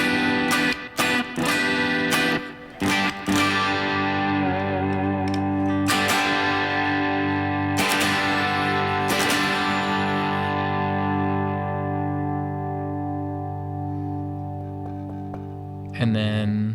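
A Fender Jazzmaster with Kinman Surfmaster pickups in the bridge position rings out through effects, with several strummed chords and sharp picked accents left to sustain and decay, fairly loud with no other sound.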